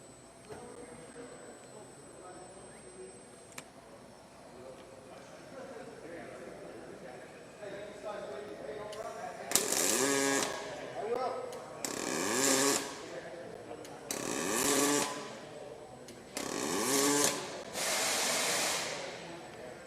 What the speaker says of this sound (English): I'm going to do 4 little spot welds here.